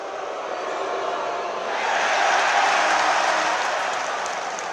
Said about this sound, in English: that was the crowd booing Giddey every time he touched the ball during the game